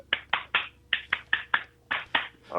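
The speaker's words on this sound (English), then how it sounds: "Let me do your clap." Hand clapping, about nine sharp claps in a loose, uneven rhythm, close and clear with no talking over them.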